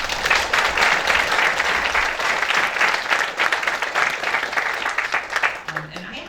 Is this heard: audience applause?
yes